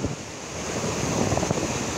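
Waterfall at Hidro Votorantim on a hot Sunday, crowded with visitors, producing a steady broadband roar of rushing water close by, constant and loud with no voices standing out.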